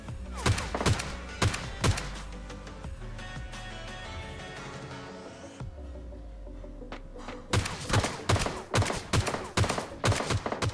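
Gunfire in the BGMI mobile battle-royale game, including an M16 rifle: loud rapid bursts of shots and single cracks, a sustained ringing stretch of fire in the middle, then sharp repeated shots toward the end.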